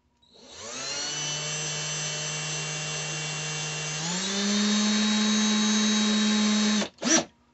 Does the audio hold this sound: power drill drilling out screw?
yes